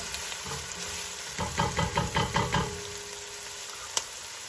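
Onions sauté in a pan for keema curry, a quiet steady sizzle broken midway by a short run of rhythmic scraping stirs, then a single sharp tap near the end.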